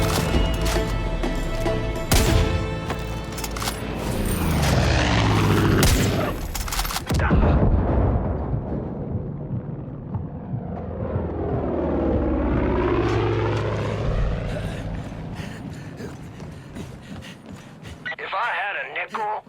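Propeller aircraft swoops overhead in Far Cry 5, loud engine drone rising and falling with sustained bursts of machine-gun fire during the strafing pass, a voice speaking over it.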